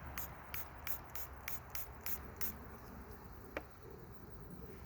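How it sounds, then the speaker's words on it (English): A Fat Blaster oral spray pump squirts into the mouth in a quick series of about eight sharp, close, airy spritzes at an even rhythm, then a single click after a pause, with no talking. "You just squirt it 8 times in your mouth."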